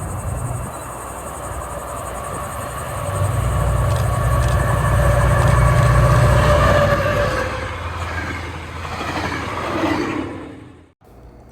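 A TriRail commuter train led by an F40 locomotive rumbles past steadily in South Florida, swelling louder then fading, with insects chirping in the background.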